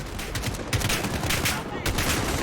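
Bursts of AK rifle fire ring out in Call of Duty: Modern Warfare, loud rapid automatic volleys broken by short gaps, with the shots close and prominent.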